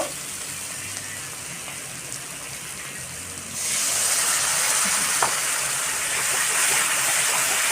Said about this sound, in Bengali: মশলা থেকে তেল ছেড়ে এসছে তো এর মধ্যে একটু জল দিয়ে দেব